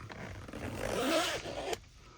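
A zipper closes a compartment on a Molle-style car visor organizer in one steady rasping pull that ends with a sharp click, close up, with no talk.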